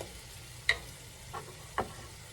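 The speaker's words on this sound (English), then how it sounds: "I'm just going to let this cook for, I don't know, 15 or 20 minutes until all the liquid is gone" Corned beef hash with potatoes and onions cooking in a pan, a low steady sizzle with two or three faint scrapes or clicks spaced through a short quiet stretch.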